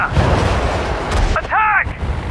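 Artillery fire in Sudden Strike 4 at the Mareth Line, March 1943, with a low boom rumbling under a soldier's shouted order and a brief ringing metallic tone near the end.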